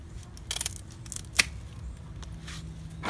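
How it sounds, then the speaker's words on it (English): Scissors snip through the bloom stalk of a succulent in a garden, giving a few short, crisp cuts at moderate volume with brief pauses between them. "if I cut the bloom off and I leave the plant"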